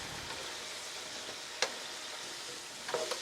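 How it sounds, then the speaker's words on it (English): Coconut cream and milk being stirred together for a spicy chicken curry dip: a soft, steady scraping swirl fills the clip alone, with one sharp clink of the utensil partway through and a few wet knocks near the end. "you're stirring it up a little bit more"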